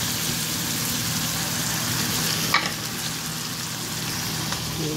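Food frying under a lid in a covered pan makes a loud, continuous crackling sizzle that stays even throughout, broken only by a single brief clink midway; no voices.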